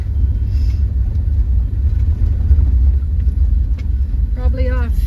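A truck rolls along a campsite road in the Okanagan Falls area, its engine rumbling low and steady throughout, close and fairly loud, with a brief voice near the end.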